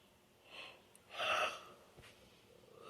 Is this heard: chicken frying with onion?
no